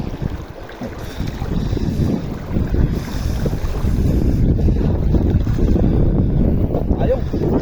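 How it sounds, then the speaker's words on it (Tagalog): A strong river current rushing during a knee-deep river crossing, a loud continuous roar of churning water with wind buffeting the microphone, close and steady throughout. "Lampas tuhod, malakas ng tubig."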